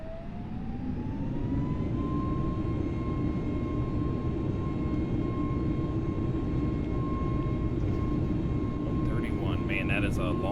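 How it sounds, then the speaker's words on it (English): Airbus A320 (FBW A32NX) jet engines in Microsoft Flight Simulator 2020 spool up to full throttle on the runway: a loud, steady roar with a whine that rises over the first two seconds and then holds, with brief high chirps near the end. "And then just go full throttle and off the brake."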